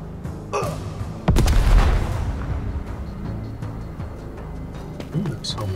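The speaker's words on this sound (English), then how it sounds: "That's homemade nade there." A homemade grenade bursts with a single heavy boom in the video game Necromunda Underhive Wars, followed by lingering rumble while a voice talks.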